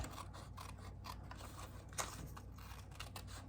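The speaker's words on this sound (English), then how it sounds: "I'm going to take a pair of my paper snips, and I'm just going to trim this right along the edge of the envelope flap." Paper snips trim along the edge of an envelope flap, giving faint, close, repeated snipping clicks against a quiet background.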